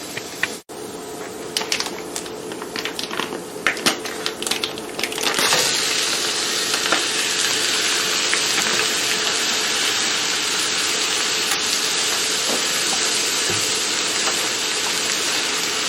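Pound of grass-fed ground beef hitting a hot skillet for a keto beef dish with jalapeno, a few clatters and handling noises first, then a loud, steady hiss and sizzle of frying that carries on without talk.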